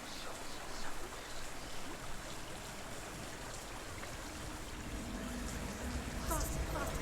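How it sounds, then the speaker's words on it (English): A waterfall in the video game Hellblade: Senua's Sacrifice roars as a steady, dense rush of falling water, moderately loud and continuous throughout with no talking over it. "I can't stop that waterfall."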